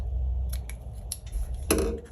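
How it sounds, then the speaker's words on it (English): Sharp scissors snip through fabric meant to cover an old thrifted book, giving a few crisp cuts close by, with one louder closing chop near the end over a quiet room. "I'm going to just take my sharp scissors and just cut off what I need."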